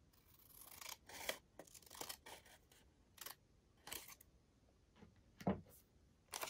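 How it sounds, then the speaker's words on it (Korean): Scissors cutting a sheet of origami paper snip sharply about ten times in an uneven rhythm, close and clear against a quiet background. "반대편도 뒤집어서 같은 방법으로 종이를 잘라주세요."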